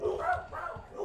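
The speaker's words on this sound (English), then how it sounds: "Oh, dogs." Several dogs bark in short, muffled bursts at a distance, a few irregular woofs and yips that overlap one another.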